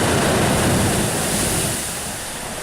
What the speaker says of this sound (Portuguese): A pressão das ondas, somada ao ar preso na caverna, faz com que a água exploda a uma altura de até 20 metros, com um ruído impressionante